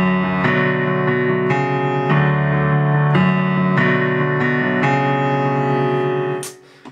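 Piano plays a sustained chord while the left hand adds notes, several chord strikes in steady succession, loud and close, with no talk, ringing out and fading at the end.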